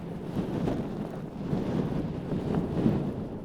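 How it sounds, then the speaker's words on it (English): Steady wind buffeting the microphone in gusty, low rumbling bursts, continuous and fairly loud, with no voices. "Super windy."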